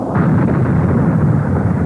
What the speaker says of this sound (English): Krakatoa erupted with an explosion considerably larger than this one recorded in 1927.